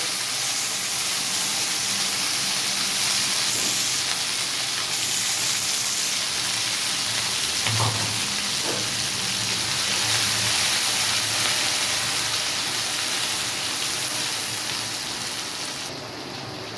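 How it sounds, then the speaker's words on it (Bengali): A spice paste for a rohu fish mustard curry fries in oil, making a continuous loud, even hiss and sizzle that runs throughout with only a faint clink or two. "এবার মশলাটাকে আমি ভালো করে ভেজে নেব"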